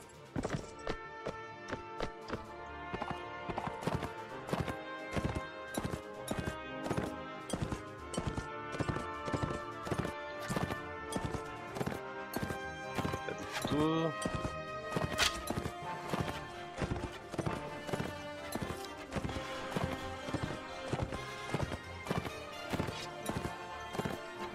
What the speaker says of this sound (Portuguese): Acho que aqui é a melhor parte para atravessar a cavalo.